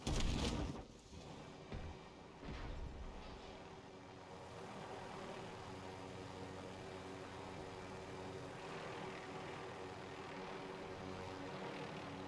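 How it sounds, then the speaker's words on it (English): A helicopter in the Warzone video game drones steadily with a rotor hum, loud at the start and then holding at an even level throughout, with no talk over it. "Let's grab the heli right here."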